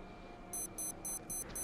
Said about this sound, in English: Oh, hang on. An alarm.